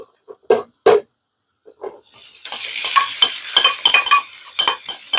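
Beef tipped back into a hot pan of onions for chilli: a few sharp clunks of the pan and utensil, then a loud, crackling sizzle that builds and holds, with scraping stirs throughout.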